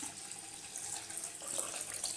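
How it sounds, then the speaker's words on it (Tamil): Water runs from a tap into a cooking pot for boiling moong dal lentils, a soft steady trickling stream that brightens slightly as the pot fills, quiet and alone. "ஸ்டவ் ஆன் பண்ணி தண்ணி ஊற்றிடலாம்"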